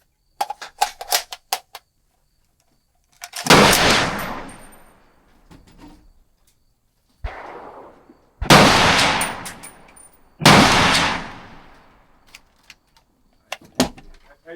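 A PSA AR-15 in 7.62x39 fires loud single shots outdoors, five or six sharp cracks spaced a few seconds apart with echoing tails, plus faint clicks and handling noises between them.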